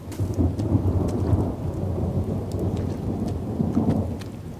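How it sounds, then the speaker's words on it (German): Continuous low rumbling thunder rolling under steady rain in a World War I trench video game, loud and sustained with no voices. "Donner."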